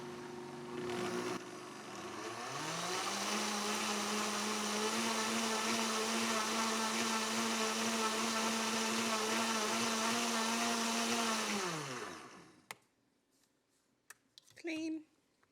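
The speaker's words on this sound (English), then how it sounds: "This is how you clean a Vitamix." A Vitamix blender spins up and runs at a steady high-pitched whine for about nine seconds while being cleaned, then winds down and stops, leaving a few faint clicks and handling noises.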